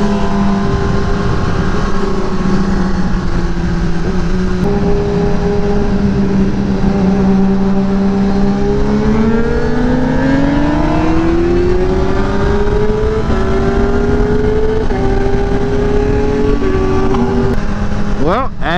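A Kawasaki ZX10R sport motorcycle accelerates hard in first gear, its loud, close engine note climbing steadily in pitch through a long pull, then briefly dropping and rising again against constant rushing wind.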